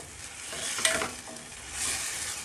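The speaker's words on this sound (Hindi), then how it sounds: "मटन को मसाले के अंदर 5 से 6 मिनट अच्छे से भून लेंगे।" Mutton pieces frying in masala in a pan, a soft continuous sizzle with a few clinks and scrapes of a stirring spoon near the middle.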